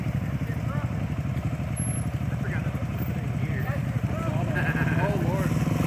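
Motorcycle engine held on steady throttle while crossing a creek, a continuous loud drone with water splashing, people shouting encouragement over it throughout.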